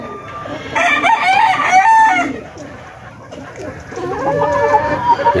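Penned gamefowl, including hens and roosters of the Lemon and Golden Boy lines, crow and cluck up close in a loud, repeated barnyard chorus, with a voice speaking faintly underneath at times.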